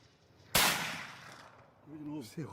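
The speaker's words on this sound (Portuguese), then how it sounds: "Tiro de novo." A single sharp gunshot cracks loudly outdoors during a wild boar hunt, its report decaying slowly, followed by a voice speaking briefly.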